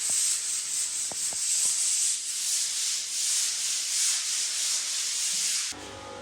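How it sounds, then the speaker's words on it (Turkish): A steady, loud hissing drone of a floor sanding machine running continuously on natural wood parquet, cutting off abruptly near the end. "son sıvırlama zımparası yapıp filamızı atacağız"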